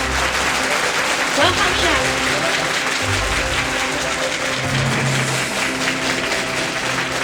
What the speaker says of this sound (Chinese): 现在就让我们以最热烈的掌声欢迎主厨们上台。